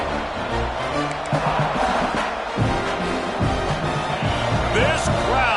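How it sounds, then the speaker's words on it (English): A stadium crowd roars in the NCAA 26 college football video game, a dense steady din of cheering with thumping rhythmic accents, while a commentator talks over it. "This crowd, full throat, splitting the eardrums"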